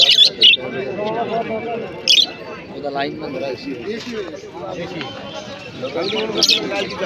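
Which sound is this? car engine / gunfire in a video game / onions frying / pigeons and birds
pigeons and birds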